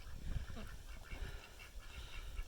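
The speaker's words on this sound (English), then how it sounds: "Hey ducks, how you doing?" Farm ducks call near the water in a wooded area, giving a few faint, scattered quacks over quiet outdoor background noise, with no talking.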